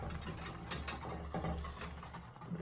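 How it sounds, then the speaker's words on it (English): A whisk stirs cornmeal quickly into polenta in a pot, with rapid scraping and clicking strokes in an irregular rhythm, close and moderately quiet. "sprinkle that in, and then you want to quickly whisk it so you don't get any clumps"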